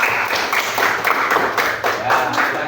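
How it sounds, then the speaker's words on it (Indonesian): A classroom applauds group 2 in steady, moderately loud clapping that lasts the whole moment, with no speech over it. "Kasih tepuk tangan buat kelompok 2."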